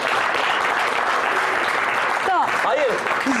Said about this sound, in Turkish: Burada alkış yapın ki şey olsun.